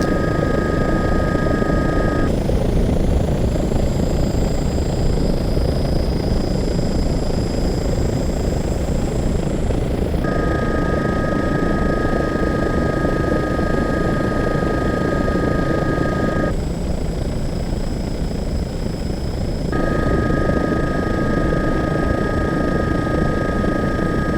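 An Airbus EC135 helicopter in the Aerofly flight simulator game gives a loud, steady turbine whine and dense rotor roar, constant throughout, with tonal layers shifting as the view changes.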